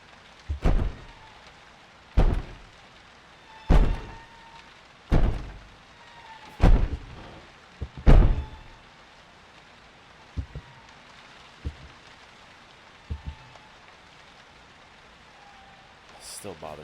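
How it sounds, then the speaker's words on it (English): Rain against the windows in the video game P.T., a low steady patter beneath a series of heavy, regularly spaced thuds that fade to softer knocks later. "the rain on the windows"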